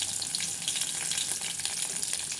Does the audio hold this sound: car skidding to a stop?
no